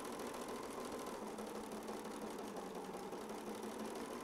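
A sewing machine re-stitches a quilt block, giving a steady, even mechanical whir that runs without pause at moderate volume and close to the microphone, with no talking.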